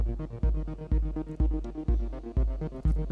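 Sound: modular synthesizer sequence through multi-mode VCF filter

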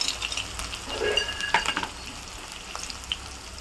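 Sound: onions and peanuts being stirred and fried in oil

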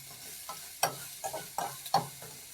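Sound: stir-frying ginger in a pan for ginger pork rice porridge

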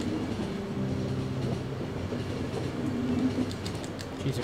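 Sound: train rumbling and clattering, from the video game The Final Station

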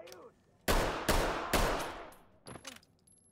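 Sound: pistol gunshots in the video game Ready or Not

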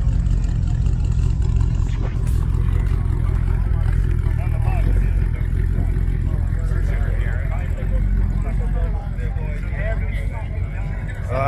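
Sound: 1964 car with nailhead engine revving

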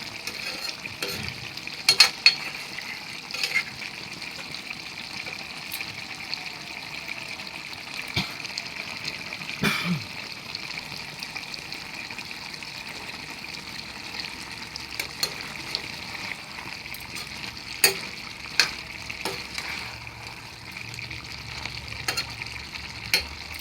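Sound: chicken being sautéed in a pan

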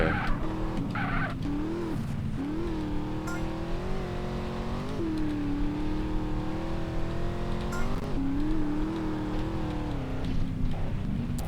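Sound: car driving to the finish line in video game GTA San Andreas

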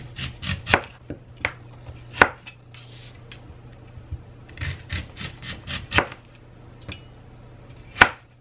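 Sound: knife slicing food on a cutting board

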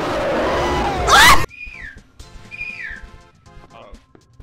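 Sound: person whistling

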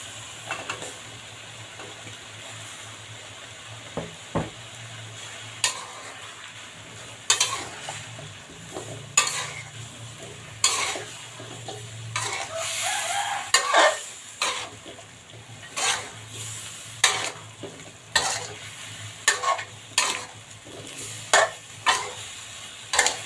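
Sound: stir-frying eggplant for catfish red curry

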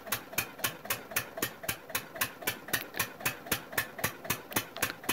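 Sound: Lister Field Marshal 10HP engine running under load

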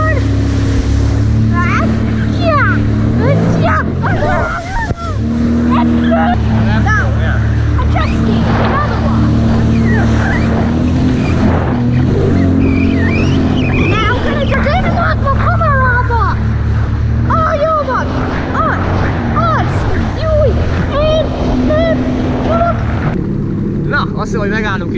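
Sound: boat riding over ocean waves

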